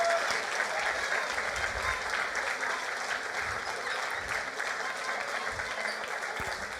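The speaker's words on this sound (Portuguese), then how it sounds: "queria que você aplaudisse a Jesus" An audience claps steadily through an Easter theater show, a dense, continuous round of applause that fills the hall without letup.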